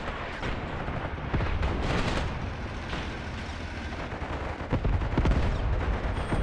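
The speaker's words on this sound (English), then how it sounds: "Those 82mm mortars just completely devastated their positions." Video game battle in Graviteam with 82mm mortar impacts and gunfire: repeated heavy booms and crackling shots overlapping in a dense, continuous barrage, with sharper bursts toward the end.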